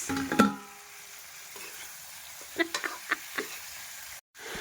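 Chicken sizzles steadily in a hot pan, with a few soft taps and clinks of a utensil partway through.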